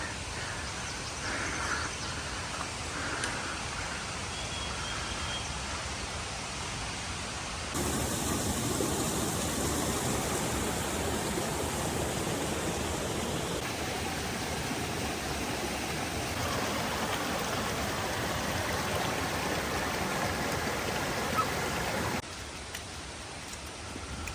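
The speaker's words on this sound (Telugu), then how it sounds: "ఆ పక్కన వాటర్ ఫ్లో అవుతుంది గషింగ్ స్పీడ్లో." Fast-flowing water gushing near Tiger's Nest in Paro, Bhutan, a dense, steady roar that swells louder midway and continues unbroken throughout, with no voices.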